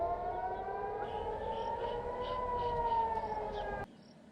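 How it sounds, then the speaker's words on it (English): Civil defense air raid sirens wail over Jerusalem, several rising and falling tones layered steadily at a distance for about four seconds before cutting off abruptly. "We got sirens in Jerusalem now"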